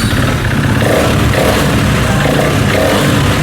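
A used KTM Duke 390 motorcycle with a BS4 engine revs close up, a loud, throaty single-cylinder note rising and falling in short blips over a rumbling idle, with no talk.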